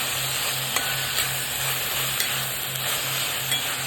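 Hadga flower vegetable stirred in a pan makes a steady, moderate sizzle with a few soft stirring taps spaced through it, and no voices.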